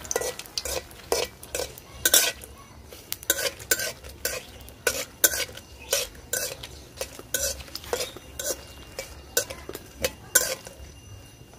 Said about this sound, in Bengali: তেজপাতা শুকনা মরিচটা একটু হালকা ভাজা নিই।